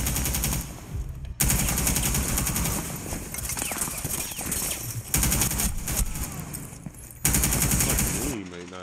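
Shotgun fire and other gunfire in Rainbow Six Siege, loud bursts of repeated shots filling most of the span, broken by a few short quiet gaps.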